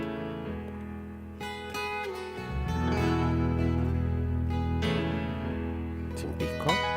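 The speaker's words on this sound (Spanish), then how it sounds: "Esto es el sonido de un vinilo" Noise-cleaned vinyl record playback of Local Hero music, processed with iZotope RX6: a full instrumental passage with rich sustained tones and some percussive accents, free of surface crackle and motor rumble, moderately loud.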